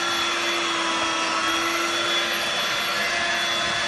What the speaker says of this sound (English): just like the vacuum cleaner.